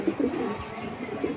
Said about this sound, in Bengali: লাইনের পাখি কবুতরের জোড়া